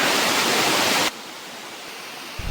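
Waterfall in Telangana: a loud broadband rush of falling water that drops sharply to a softer, more distant wash about halfway through, with no talk.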